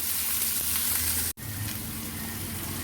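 Sliced onion sautés with curry leaves in a hot pan, giving a steady, close hiss of sizzling oil that breaks off for a split second midway, then carries on.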